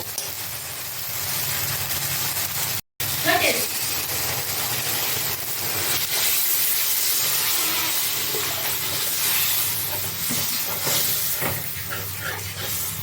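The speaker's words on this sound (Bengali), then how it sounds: "এখন আমি জল দিয়ে দেব" Water poured into hot spice paste fried with tomato for a Bengali Rupchand pomfret fish curry, giving a loud, steady broadband hiss of steam that runs throughout, broken once by a brief dropout.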